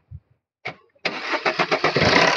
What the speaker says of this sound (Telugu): బండి అయితే సింగిల్ సెల్ఫ్ లో స్టార్ట్ అయిందండి